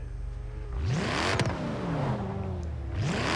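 Mercedes-Benz E63 AMG with a turbocharged V8 revs up twice nearby, each sweep rising sharply then dropping back between bursts, loud and clear with no talk.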